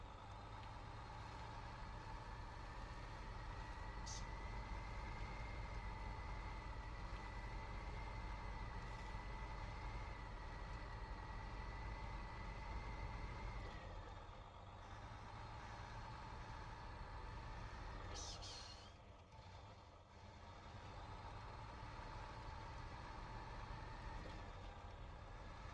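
A MAN 6x6 truck's engine in a video game drones loud and steady for the whole stretch, dipping briefly about three quarters of the way through before returning to its constant rumble.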